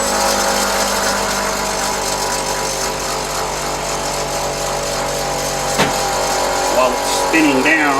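A bench grinder winds down after grinding the tip of a lathe tool, a steady whirring drone that holds for several seconds, with a few brief clicks and a falling whine near the end.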